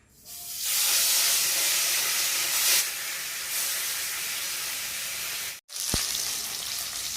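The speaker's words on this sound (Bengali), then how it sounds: "এখন মাছগুলোকে আমি এক এক করে ছেড়ে দেব" Rohu fish pieces hit hot oil in a wok with a loud, sudden burst of hissing sizzle that holds steady. A brief cutout comes near the end, then a sharp crackle as another piece drops in, with no talk.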